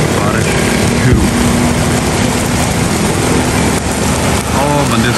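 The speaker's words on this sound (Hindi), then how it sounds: "बारिश शुरू।" Steady, loud rain pours down in a dense hiss, with faint background rumble and maybe distant voices mixed in.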